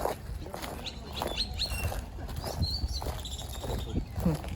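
Birds chirp and tweet intermittently at a lake in a botanic garden, with faint background noise and scattered rustling throughout.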